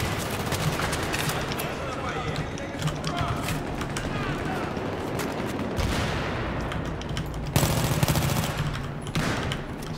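Auto pistol fire in Battlefield 3 comes as rapid, continuous bursts of shots mixed with other battle noise, with voices talking throughout.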